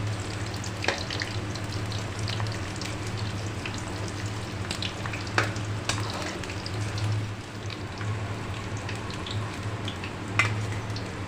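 Stuffed bitter gourds, including larger ones cut into pieces, fry in a pan with a steady crackling sizzle and a low hum underneath, broken by a few sharper pops, with no talking.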